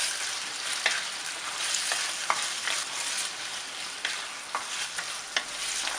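Chilli chicken sauce, made with Kashmiri chilli powder, sizzles over high heat in a pan, with a steady hiss throughout. A spoon scrapes and clicks against the pan at irregular intervals.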